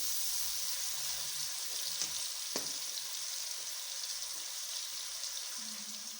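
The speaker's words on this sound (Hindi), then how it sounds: "1 से 2 मिनट तक प्याज को पकाते हैं हम।" Chopped medium onion frying steadily in a pan, a continuous soft hiss and sizzle close by with a few faint clinks, no talk.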